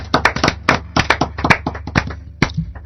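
Hand clapping at a church retreat, acclaiming the Lord: crisp, close claps in an uneven, lively rhythm with no voices.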